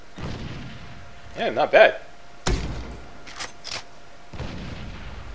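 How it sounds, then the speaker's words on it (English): A grenade launcher fires in the video game Far Cry 3, giving several heavy thumps and booms spaced across the clip, with a brief spoken remark in between. "let's test the range on the grenade launcher."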